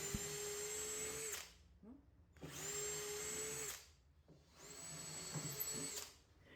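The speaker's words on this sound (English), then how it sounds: "Right now I'm drilling pilot holes" A power drill whines in three bursts of about a second and a half each while drilling pilot holes, separated by short quiet gaps, fairly faint.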